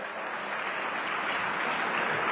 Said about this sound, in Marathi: सगळ्यांनी एकदा जोरदार पुन्हा साहेबांच्यासाठी टाळ्या वाजवल्या पाहिजेत